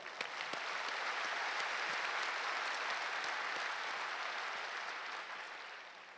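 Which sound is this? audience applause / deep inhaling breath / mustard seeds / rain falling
audience applause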